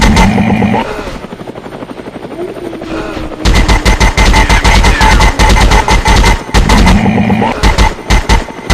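Rapid bursts of gunfire blast loud and close in the Commando video game, with dense machine-gun rattles and a steady helicopter-like rotor drone underneath, pausing briefly before resuming in long rolling volleys.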